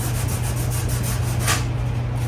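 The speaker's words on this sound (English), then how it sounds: "on here I had to sand over a little bit" Hand sanding on a fiberglass 1932 coupe car body: a steady, continuous abrasive rubbing that stays close and even throughout, with no talking.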